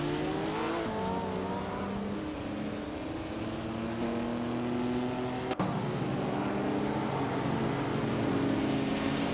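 1950s sports cars racing in a simulator video game, engines droning loud and steady with rising and falling pitch as gears change, one sharp click partway through.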